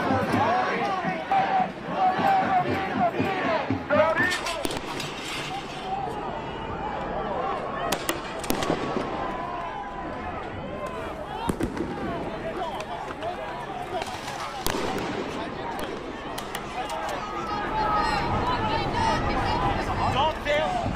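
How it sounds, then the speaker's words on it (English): Flash bangs go off on a college campus during a police crackdown, sharp blasts and bangs scattered through a noisy crowd scene with running feet, shouting and voices talking throughout. "Flash bangs inside a college campus."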